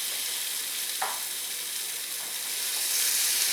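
Hatch chilies sizzle in a hot pan as a steady, close frying hiss, with one brief sharper crackle early on and the sizzle swelling slightly toward the end.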